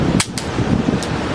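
A Samsung Galaxy Note 1 phone dropped face down strikes a hard surface with one sharp impact, followed by a couple of fainter clatters over a steady background hum.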